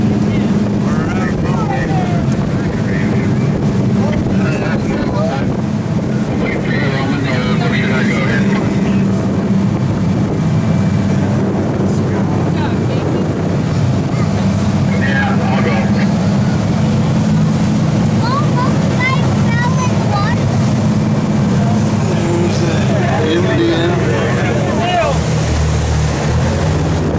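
Boat motoring out to sea off Depoe Bay, with a steady, loud engine drone, heavy wind buffeting the microphone and splashing water throughout, while a few faint voices come and go underneath.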